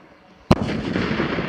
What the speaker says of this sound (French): explosion de voiture avec 340 litres d'acétylène dans 3